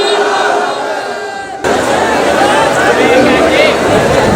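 A large crowd at a 10th Muharram gathering at Dargah Dastagiria Halani Shareef roars back in unison after a single amplified voice calls out the Naara-e-Takbeer slogan. The shout bursts in suddenly, loud and close.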